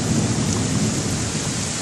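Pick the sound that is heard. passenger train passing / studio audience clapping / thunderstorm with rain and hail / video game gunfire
thunderstorm with rain and hail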